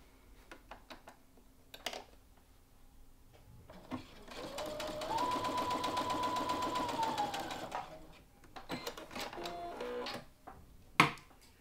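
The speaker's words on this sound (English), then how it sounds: "Draw that line and sew straight along that marked line." A sewing machine stitches along a marked line on fabric scraps, with one steady whirring run of several seconds at moderate loudness, framed by scattered handling clicks and taps before and after.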